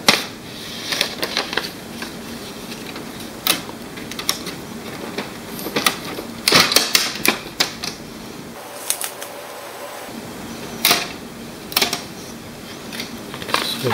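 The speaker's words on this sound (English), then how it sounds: "So there's a tape here and you're supposed to pull it" Packing tape peeled off an HP LaserJet MFP M233-series printer during unboxing, a series of sharp crackling rips and clicks close up, irregular and mostly alone with no talking.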